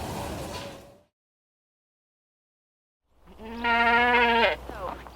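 Farm goats bleat loudly, a single long quavering call rising after a brief silence and then trailing off; faint talk and background noise precede the pause.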